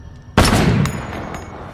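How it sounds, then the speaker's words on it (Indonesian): A single loud, close gunshot goes off in a film scene, a sharp crack followed by a decaying boom and fainter echoing cracks. "Miguel menembak mati anak Gomez"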